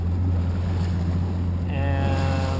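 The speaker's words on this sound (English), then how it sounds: "I'm going through a bunch of big waves" A fishing boat running through big waves out on open water, its engine droning as a steady low hum under rushing wind and splashing water, with the tone shifting midway as the hull meets the swell.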